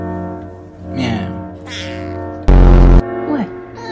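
A pet cat meows close by, giving several drawn-out, rising and falling calls with a brief loud blast partway through.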